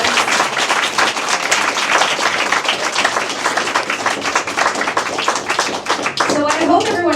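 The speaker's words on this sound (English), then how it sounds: "let's give our panelists a big round of applause" An audience claps for panelists at the close of a content-creator career panel, a dense, steady round of applause at full volume, with a voice starting to speak over it near the end.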